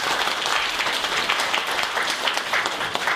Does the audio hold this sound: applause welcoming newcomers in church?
yes